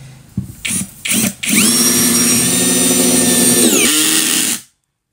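A Japanese clutch screwdriver set to fast speed and its highest clutch setting, 21, drives a long screw: several short bursts of motor whine, then a loud, sustained near whine that winds down and stops abruptly.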